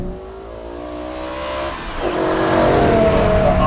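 A BMW E60 M5 manual with an Eisenmann race header-back exhaust revs up hard, its rising engine note climbing loud and close with a sharp surge partway through.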